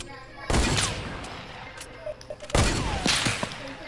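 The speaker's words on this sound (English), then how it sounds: "Oh, no, that's my hunting rifle!" Hunting rifle shots in a video game, two loud sharp booms spaced about two seconds apart with smaller clatter between, with people talking.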